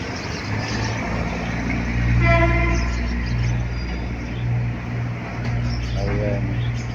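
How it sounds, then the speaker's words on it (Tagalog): A train rumbles past near an elevated highway construction site on Ramon Magsaysay Boulevard, a loud sustained low drone with humming tones that swells and eases. "May train dumaan."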